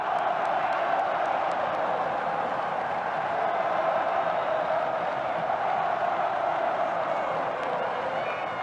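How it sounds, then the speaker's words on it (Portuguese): A football crowd at the Maracanã stadium during Fluminense versus Corinthians in the 2009 Copa do Brasil swells into a continuous, dense roar of cheering and noise that holds steady for the whole stretch. "A torcida acorda no Maracanã"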